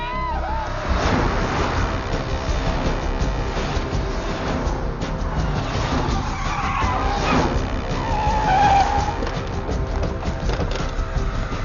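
A car skids hard in a dramatic Hindi film scene, tyres screeching over a loud, continuous roar of engine and impact noise that runs the full length without pause.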